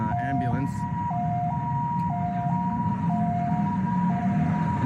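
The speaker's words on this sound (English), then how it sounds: "there's an ambulance" An ambulance siren sounds a steady two-tone hi-lo pattern, alternating evenly over a constant roar of traffic, loud and nearby.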